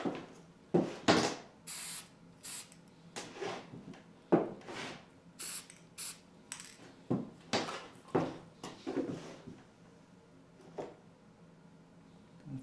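Short bursts of clear lacquer hissing from a short spray can onto an N-scale model, a dozen or so quick sprays with pauses between them, fairly close and with no talking.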